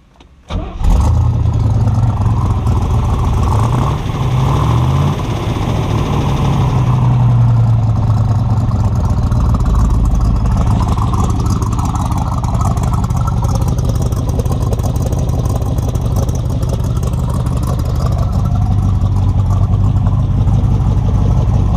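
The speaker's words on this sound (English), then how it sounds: "Exhaust is blowing nice and clean, sounds great." A 1965 Chevrolet Corvette engine starts and then runs loud and steady, its low exhaust rumble rising and falling slightly as it drives, close to the listener.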